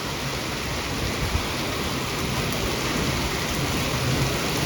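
Heavy rain begins to pour, a dense, steady hiss of falling water that stays even and close for the whole stretch, with no voices.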